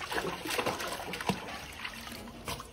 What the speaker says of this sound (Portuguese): Tá enfiando o nariz na água para fazer bolinhas.